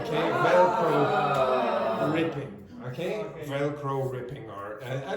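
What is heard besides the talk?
No everyday noise stands out behind the speech.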